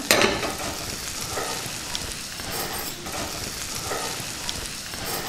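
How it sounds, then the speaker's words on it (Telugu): Finely chopped ginger pieces frying in a pan for a traditional ginger chutney: a steady, close crackling sizzle of hot oil that runs throughout at an even level, with faint stirring scrapes. "వీటిని బాగా వేయించుకుందాం"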